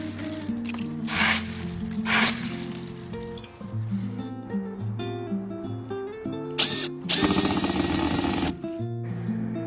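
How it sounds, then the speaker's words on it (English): An impact driver unscrews pieces from a tiny-house kit roof in several close bursts of whirring and rapid hammering, with quieter pauses and a loud, sustained final run. "first I'm gonna use the impact driver to unscrew these pieces"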